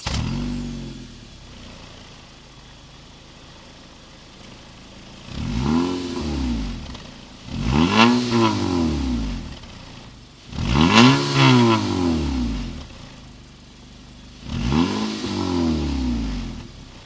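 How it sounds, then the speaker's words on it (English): The exhaust of a 2022 Acura ILX with a 2.4-liter VTEC engine rises and falls through four separate revs, each a loud swelling roar that climbs and drops back to a quiet idle. "I still want to hear that exhaust note."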